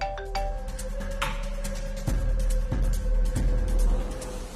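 A phone ringtone for an incoming call chimes in repeated electronic tones over a low steady hum, moderately loud and close in a TV serial scene, with no talking.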